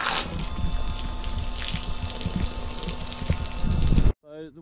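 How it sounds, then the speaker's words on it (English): A camping water pump on a Land Rover Perentie setup runs steadily while water gushes hard from a hose, a loud continuous rush that cuts off abruptly, followed by a brief voice. "Or I can turn on the water pump."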